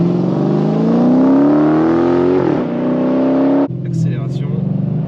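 A Dodge Challenger SRT engine revs as it accelerates, a loud rising drone that climbs in pitch, dips briefly, then climbs again before cutting to a lower rumble, with a voice speaking near the end.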